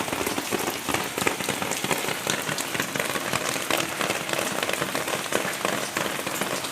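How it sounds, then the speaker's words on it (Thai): Rain falls steadily at a garden house in Sattahip, Thailand, the first rain of the year, a dense, even patter of drops on surfaces close by, with no voices. "อยากเก็บบรรยากาศฝนตก มาให้ทุกคนได้ดูะค่ะ"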